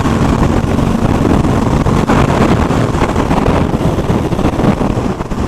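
An Aprilia RS660 motorcycle riding at about 5,000 RPM and 74 mph: a loud, steady engine drone heavily mixed with wind rush, continuous throughout with no talk.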